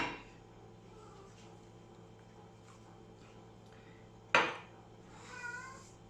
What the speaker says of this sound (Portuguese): Olha o meu gato.